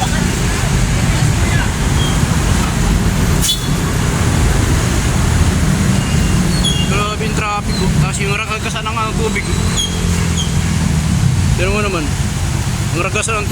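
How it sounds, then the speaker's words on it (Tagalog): Strong floodwater current rushes loudly under a bridge in Quezon City, a constant roaring wash with passing road traffic and vehicle hum layered throughout, while people talk over it. "Yung tubig. Malakas yung alon."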